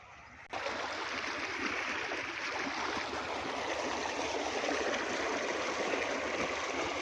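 A stream of cold water on a farm rushes in a steady, close hiss that starts suddenly and keeps an even, full level throughout, with no voices.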